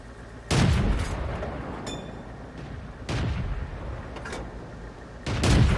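Artillery fire in the World of Tanks video game: three heavy booming blasts spaced a few seconds apart, each with a loud sharp onset and a long rumbling decay, plus a brief metallic ping in between.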